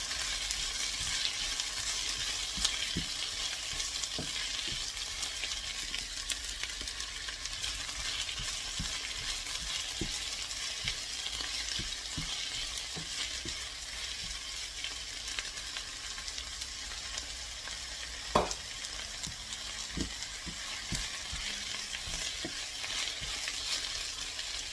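Drumstick leaves sautéed in a pan give a steady, even sizzle throughout, with a few faint clicks of stirring scattered over the continuous frying hiss.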